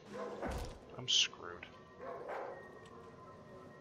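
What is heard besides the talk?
dog barking in the video game Darkwood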